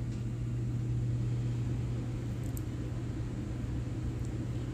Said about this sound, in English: make the damn furnace go away